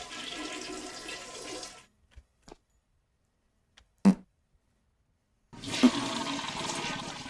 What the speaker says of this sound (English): we will bring up the flush sound